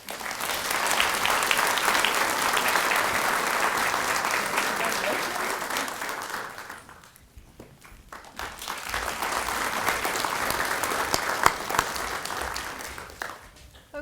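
A crowd applauds at an elementary school award ceremony, two long swells of dense clapping separated by a short lull.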